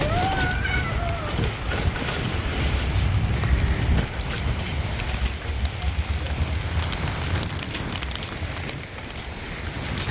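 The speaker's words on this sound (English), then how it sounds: "This is not the weather I wanted to walk out of Sainsbury's into. Absolutely chucking it down." Heavy rain pouring down outside a supermarket, a loud continuous hiss and wash with wind buffeting the microphone, steady throughout without a break.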